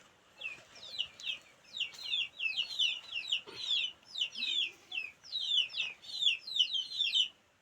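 A free-range country hen clucks in quick, repeated bursts that run almost continuously at moderate volume, with no talk.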